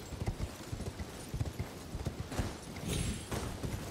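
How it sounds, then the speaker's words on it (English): Horse hooves gallop in Elden Ring, a fast, steady clip-clop rhythm close and loud, with rustling movement over a noisy open-world background. "Doing horse parkour."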